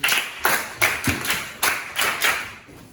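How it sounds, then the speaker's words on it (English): Several short bursts of clapping for a student in a classroom, roughly seven quick, evenly spaced claps or brief patters, close and fairly loud, with no voices over them. "Let's clap for you"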